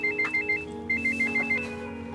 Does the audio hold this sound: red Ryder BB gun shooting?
no